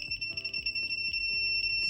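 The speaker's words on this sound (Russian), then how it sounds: "сигнал работает." A homemade water level alarm buzzer sounds continuously, a steady high-pitched electronic tone held for the whole couple of seconds, with faint handling noises beneath it.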